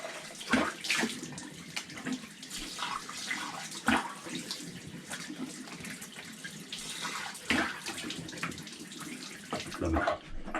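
Vigorous rinsing under running tap water while washing with barber soap in a home bathroom, a steady splashing rush with louder bursts of spatter throughout, close and alone without talk.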